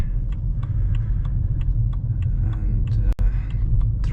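A car driving on suburban roads in Björkhagen and Hammarbyhöjden, Stockholm, with a steady low engine and road rumble heard from inside the cabin, light ticking noises, and a brief dropout near the end.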